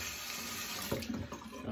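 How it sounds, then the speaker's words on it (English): Cold water runs steadily from a bathroom tap into a sink during a shave, a continuous close hiss and splash with a few brief changes in the stream near the end, and no talk. "Got some cold water on it."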